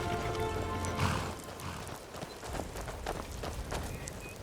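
Horses clip-clopping at a run in Skyrim's Falskaar mod, hooves thudding in a steady rhythm at moderate distance over a constant game ambience, with no voices.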